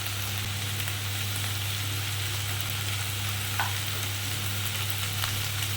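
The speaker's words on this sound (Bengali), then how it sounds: "আদা, রসুন, লঙ্কা সব একটুখানি ভেজে নেব" Ginger, garlic and chili frying in a pan for a chicken dakbungalow curry, a steady close sizzle with faint stirring scrapes and a low background hum, no voices.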